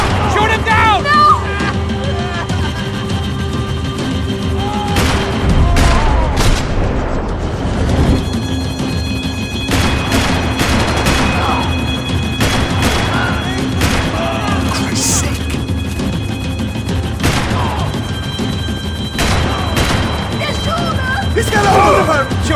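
Gunfire in the shooter game Max Payne 3, repeated sharp shots and bursts scattered throughout a busy action scene, heard alongside crashes, engine drone and shouting voices.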